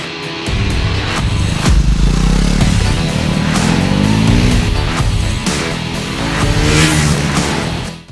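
A Triumph Scrambler 400 X motorcycle ridden hard through corners on tarmac, its engine loud and close with a continuous rising and falling drone of revs throughout.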